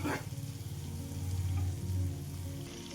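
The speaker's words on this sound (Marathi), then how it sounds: "छान मी आहे परतून घेते शिमला मिरची" Capsicum (bell pepper) is sautéed in a pan for masala sweet corn, giving a soft, steady sizzle and light crackle with occasional stirring scrapes.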